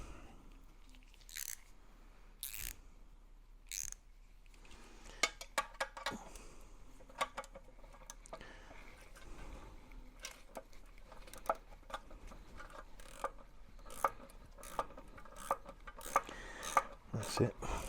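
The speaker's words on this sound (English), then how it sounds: "have to just use a little ratchet on that." A small ratchet tightens a fitting on a 1/6 scale M26 Armortek model tank, giving repeated sharp clicks and rasping bursts that grow denser toward the end, close and fairly quiet.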